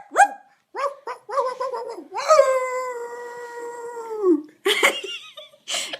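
A person imitates a dog with a series of short voiced barks followed by a long drawn-out howl-like woof, then a couple more sharp yelps, loud and close with small gaps between.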